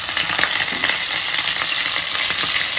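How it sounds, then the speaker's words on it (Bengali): Scored chicken leg pieces fry in a pan, a loud close hiss and crackle holding steady throughout, with faint utensil taps. "এইভাবে আমি আস্তে আস্তে একটু ফ্রাই করে নেব চিকেনগুলো।"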